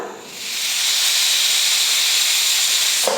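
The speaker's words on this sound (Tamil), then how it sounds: "குக்கரில் 2 விசில் வந்துடுச்சு." A loud, sustained steam hiss of a pressure cooker venting its whistle while cooking kushka rice, holding steady for a few seconds before cutting off.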